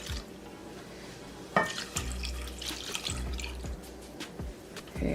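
Milk pours into a pot of macaroni with chopped Velveeta cheese, a close, quiet liquid splash and trickle with a few soft drips and clinks, no talking over it.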